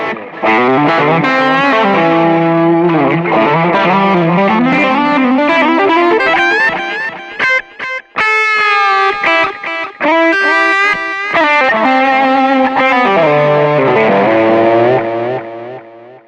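An electric guitar through a Boss GT-Pro delay effect plays a distorted melodic line with notes ringing and repeating as echoes behind each phrase, loud and without any talking.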